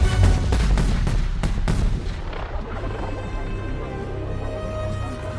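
Cannon fire in the animated film Free Birds: a rapid series of loud booming blasts in the first two seconds, then a deep rumbling roar that rolls on and fades.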